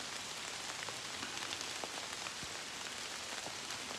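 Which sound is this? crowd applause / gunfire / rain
rain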